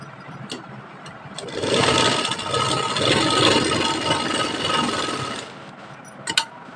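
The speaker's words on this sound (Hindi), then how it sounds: "तो चलिए इसकी स्टिचिंग कर लेते हैं दोनों तरफ से।" A sewing machine runs in a steady whirring burst of about four seconds, stitching a pocket onto a kurti, with quieter handling noises before and after.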